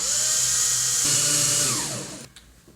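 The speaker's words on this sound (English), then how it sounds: "Let me drill." A power drill driving a screw whirs steadily at high speed, its pitch shifting as it bears down, then cutting off near the end.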